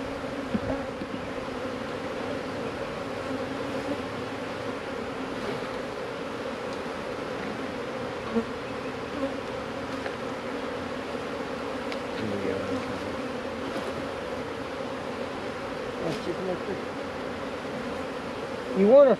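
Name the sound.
honey bees buzzing around an open hive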